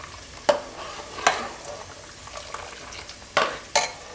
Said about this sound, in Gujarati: હવે ભીંડામાં એકવાર ફેરવી લેવું આપણે